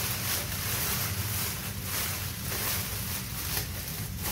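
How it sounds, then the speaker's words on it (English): Shrink wrap crinkles and rustles continuously at close range while a gift basket is being wrapped, a broad noisy hiss with soft swelling bursts and no voices. "I need the shrink wrap. It's so noisy."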